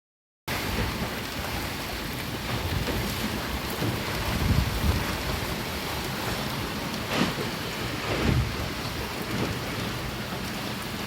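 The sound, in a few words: rain falling on a sailing boat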